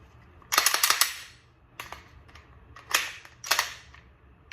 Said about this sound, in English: press the trigger, nothing happens